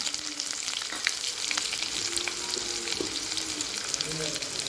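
Shallots and red chillies sauté in an oiled pan for a bottle gourd dish, with a steady close sizzle and occasional scraping stirs throughout, no talking.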